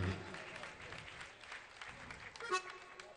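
Congregation at a Jain religious ceremony claps in approval of a pledged donation, a crowded spatter of applause mixed with voices and a loudspeaker announcer talking over it.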